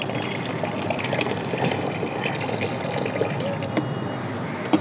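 Soaked onion-peel water is poured onto a tomato plant, giving a steady splashing pour that lasts about five seconds. The sound is close and fairly loud, with a few sharper drips near the end.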